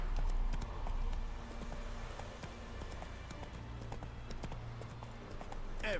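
Roach the horse trotting in The Witcher 3 video game, a steady, evenly spaced clip-clop of hooves that carries on throughout over a low background bed.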